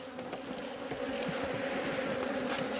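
Agitated Korean native honeybees buzzing loudly and continuously close by around an improved hive box, a dense, steady drone with no voices.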